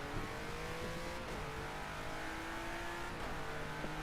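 A Renault GT3 race car engine in a racing video game drones steadily at close range, with two brief dips suggesting quick gear shifts, and a sharp burst of noise right at the end.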